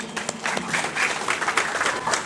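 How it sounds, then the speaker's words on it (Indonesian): A short burst of clapping from a small group at an Indonesian Halal Bihalal community gathering, lively and close, with some background murmur. "Tepuk tangannya mana?"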